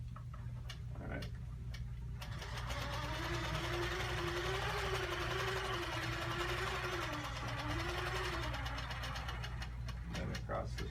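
A sewing machine stitches a quilt through the batting, running in a steady, continuous mechanical hum with fast ticking stitches that stays loud and close for the whole stretch.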